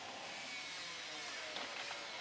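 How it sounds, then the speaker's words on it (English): A power saw cuts steadily through a wooden frame for a van conversion, a continuous loud, broadband grinding whine with no pauses. "So I'm just cutting out the frame roughly"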